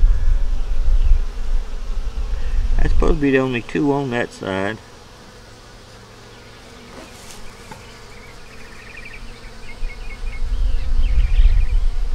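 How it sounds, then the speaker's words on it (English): Honey bees buzz around capped queen cells on a hive frame, a loud close hum beneath a man's brief speech. The buzz drops to near quiet in the middle and then swells again. "Bees are hanging around them"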